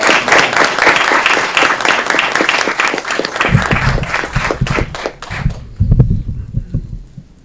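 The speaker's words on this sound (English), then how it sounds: "Let's give them a round of applause." Audience applause at a city hall ceremony in Aurora, a burst of close, crisp clapping that thins out toward the end as a few voices begin talking.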